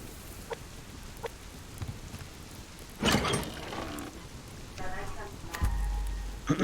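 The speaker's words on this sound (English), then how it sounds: "Why it rains every time I get on the server." Rain falls in the survival game Subsistence, a soft continuous patter under the scene, with people talking and clucking, chicken-like calls breaking through at moments.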